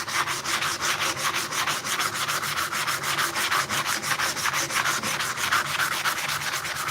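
Belt sander sandpaper rubbed across a blade in fast, even back-and-forth strokes, a close, rasping scrape repeating in a steady rhythm about three times a second, with no speech.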